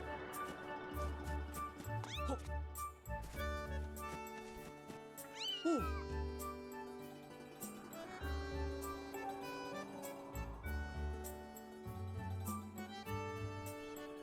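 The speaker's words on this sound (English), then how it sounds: "It meows." A cat meowing in the video game The Legend of Zelda: Skyward Sword, several short rising mews spread over a looping music track, moderately close and clear with no talk.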